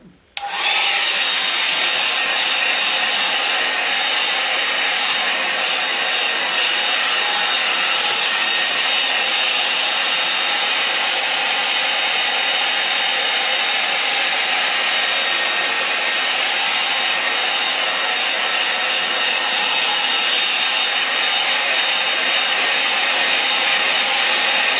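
A hair dryer blows steadily and loudly at close range, switching on abruptly at the start and then holding one even, broadband whoosh for the full stretch with no pauses and no talking.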